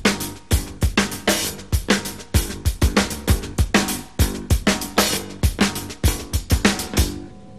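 Drum kit groove with snare, bass drum and hi-hat played live in a steady march-like pattern, with sharp snare cracks and kicks driving a loud, continuous rhythm.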